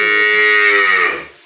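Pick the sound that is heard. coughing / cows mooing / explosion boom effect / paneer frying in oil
cows mooing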